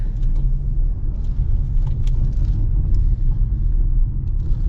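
A 2026 Nissan Kicks SV AWD rolls over gravel, giving a steady, loud low rumble of road and engine noise with faint crunchy ticks from stones throughout.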